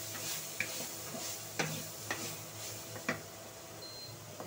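Soybean chunks sizzle quietly in oil in a pan while being stirred, with a few sharp scraping clicks spread through the low steady frying hiss.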